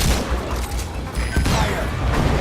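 A Metal Gear Solid V: The Phantom Pain match with a busy volley of gunfire and blasts, several sharp loud shots in quick succession over a noisy rumbling background.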